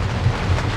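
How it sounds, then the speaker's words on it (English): Thunderstorm with rain around a boat at anchor, a steady broadband wash of rain with low rumbling underneath, loud and continuous through the short stretch. "And we got a thunderstorm."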